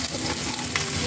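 Hot oil sizzles steadily in a pan for squid adobo, a dense, close crackle heard briefly without voices.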